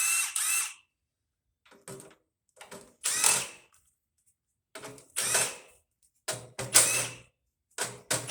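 Screws being removed from an A-coil during scrapping, heard as short bursts of a power driver whirring, about eight separate spurts with silent gaps between, close and clear.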